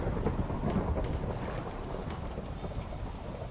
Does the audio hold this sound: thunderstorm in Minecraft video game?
yes